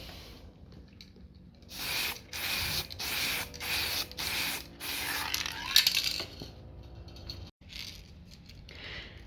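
Aerosol can spraying a second coat of chrome paint, several short hissing bursts in a row, fairly close and moderately loud, followed by quieter handling and a final faint spray.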